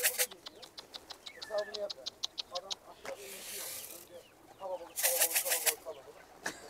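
A bango rooster crows loud and close in a yard with chicks, drawn-out harsh calls broken by sharp clucks and clicks, while people talk nearby.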